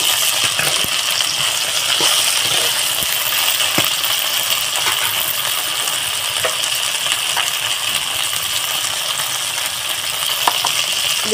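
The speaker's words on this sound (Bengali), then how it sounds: "এদিকে আমার ভেন্ডিটা একটু আমি লাল লাল করে ভেজে নেব" Okra frying in oil in a pan, a steady close sizzle broken by small crackles and light clinks, with no voices over it.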